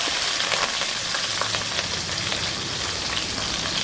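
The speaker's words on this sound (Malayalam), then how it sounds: "നമ്മൾ കടുക് ചേർത്തു, ഉലുവ ചേർത്തു, എല്ലാം പൊട്ടിക്കൊണ്ടിരിക്കുന്നു." Mustard seeds, fenugreek and green chilli splutter in hot oil, a dense crackling sizzle with scattered pops, steady and close, with no talk over it.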